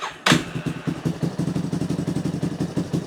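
An old Yamaha Warrior 350 ATV engine fires up on choke after sitting for a year, catching with a sharp thump and then settling into a fast, even putter close by.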